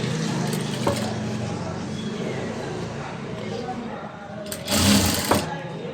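A sewing machine stitches a folded hem on a long frock, giving a steady mechanical whir and rapid needle chatter close by, with a brief louder burst near the end.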